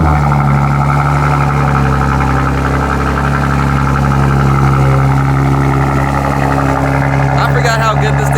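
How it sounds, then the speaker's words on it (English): A BMW M4 Competition engine runs after a cold start, holding a loud, steady, throaty idle with a deep hum throughout, close to the car. "A little cold start for y'all."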